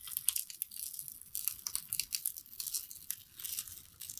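Backing paper peeled slowly off heat-set book cloth, a soft, close crackling tear with small crinkles that rises and falls in short bursts over a few seconds, with no talk.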